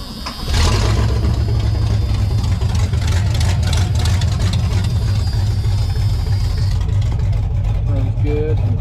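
A 1986 Chevy square body pickup with a small block V8 cranks and catches, then settles into a loud, steady idle that continues close up for several seconds.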